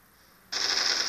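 Automatic gunfire in the Stickman Counter Zombie Strike video game, a sudden loud burst of rapid shots that starts abruptly after a quiet moment and continues steadily to the end, with no voices.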